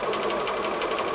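A sewing machine chain-sews pre-cut quilt pieces at a 1/4 inch seam, running as a continuous, close, rapid rhythmic whir throughout.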